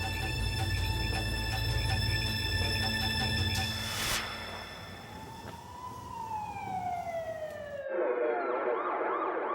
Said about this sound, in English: the wail of an ambulance cuts through the night